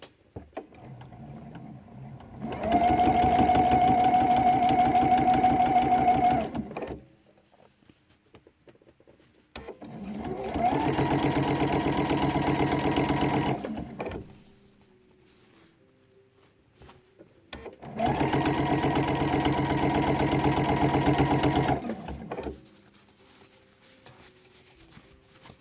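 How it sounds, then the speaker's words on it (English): Domestic sewing machine stitching binding onto the edge of a quilt: three sustained runs of steady motor whir and rapid needle chatter, each several seconds long, separated by quiet pauses. "Put my foot down and begin to sew."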